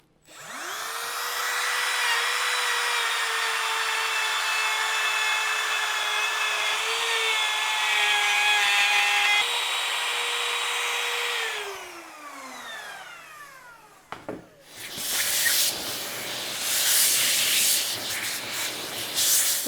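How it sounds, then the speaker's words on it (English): A plunge router cutting a wide, quarter-inch-deep groove in wood: the motor spins up and screams steadily for about ten seconds, winds down, then rough scraping and clean-out noises follow, close and loud. "I'm just going to rotate the router down in there, and then we'll just kind of clean this out slowly"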